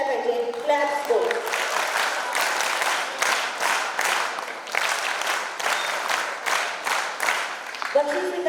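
An audience at a school's annual prize-giving ceremony claps in sustained applause, loud and close, rising and pulsing for several seconds before tapering off as a voice speaks at the end.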